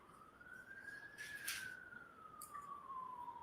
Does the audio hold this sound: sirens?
yes